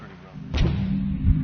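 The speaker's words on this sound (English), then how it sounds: "As Dave leaves the cannon" A human cannonball cannon fires with a sudden loud blast that settles into a rumbling boom, brief and close, with speech-like sound in the background.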